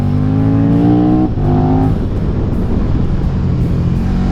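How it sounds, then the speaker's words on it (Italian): A KTM 1290 Super Duke GT motorcycle on the Stelvio mountain pass revs hard, with quick gear shifts producing sharp drops in engine pitch, followed by a loud, rough, steady engine drone. "Sentite che sparate il cambio."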